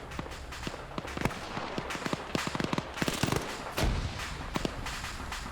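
Rapid gunfire from a firefight in the military shooter Arma 3, sharp cracks and bursts scattered throughout with a heavier grenade blast near the middle, close and loud with steady background noise.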